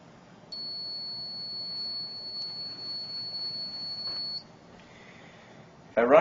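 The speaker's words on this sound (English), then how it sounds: "as an example, I've set up a buzzer" A steady high-pitched electronic buzzer tone from a home-made PIR motion-sensor security alarm sounds for about four seconds and then cuts off, followed by a short burst of noise.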